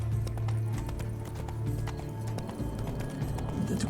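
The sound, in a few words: horse hooves galloping in The Witcher 3 video game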